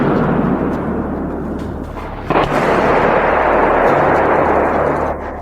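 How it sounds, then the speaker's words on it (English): Heavy artillery shells explode in a forest during fighting in the war, a dense continuous roar of blasts and echoing rumble with one sharper burst near the middle, loud and sustained throughout. "Heavy shells flew in our direction. The forest was drowned in the echoes of explosions."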